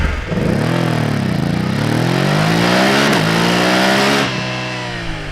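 A BMW F900 GS motorcycle engine under riding load, loud and close, its pitch rising and falling through gear changes, steady for several seconds before easing off near the end.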